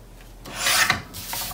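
A paper page for scrapbooking is trimmed with a single close, rasping slide lasting under a second, then a softer second scrape.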